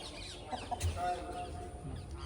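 Hen clucking in short, scattered bursts amid a busy farmyard background, with no clear talk.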